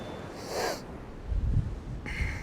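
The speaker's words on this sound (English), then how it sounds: "Sorry if I'm sniffling. A little bit of hay fever." Two short, breathy sniffs through the nose, close by, from someone with hay fever on a windy East Coast beach at Withernsea, UK, over a steady low background rumble.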